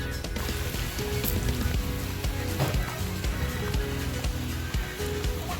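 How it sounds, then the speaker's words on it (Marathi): Sudden heavy rain in the Konkan countryside pours down as a dense, steady roar that holds at an even loudness from start to finish, with no voices. "अशा प्रकारे पाऊस चालू झालेला आहे"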